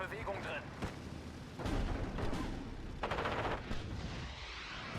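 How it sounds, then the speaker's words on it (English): Rocket artillery strikes in Steel Division: Normandy 44, heard as a rapid series of heavy booms and crackling bursts of gunfire. Someone talks over the battle. "Oh, nice rocket strikes there coming in from Mifiu"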